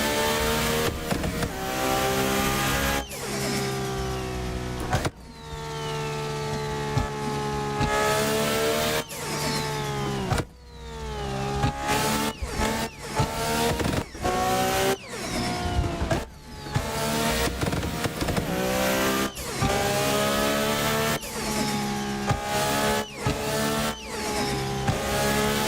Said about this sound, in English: This car sounds angry as hell.